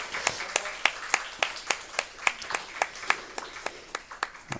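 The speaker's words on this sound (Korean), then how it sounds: "우리 박수로 한번 축복하겠습니다." A church congregation applauds to bless a family during a Sunday morning service, heard as rhythmic unison clapping, regular sharp beats in a steady pulse, moderately close.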